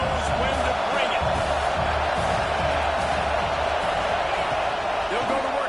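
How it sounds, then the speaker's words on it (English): A dense, roaring football stadium crowd at a Clemson game, sustained and loud throughout with a broad wash of cheering, and a commentator's voice faintly over it. "This crowd knows when to bring it."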